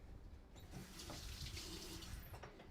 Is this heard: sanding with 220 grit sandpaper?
no